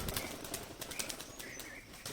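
Pigeons released outdoors, flurries of flapping wings clattering close by with a few faint chirps, steady and fairly quiet throughout, no talking.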